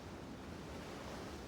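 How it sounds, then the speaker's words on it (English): Cold, enraged sea waves surge in a steady, broadband wash, close and continuous with a gusty windy texture, no voices present. "The sound of waves flows into my ears."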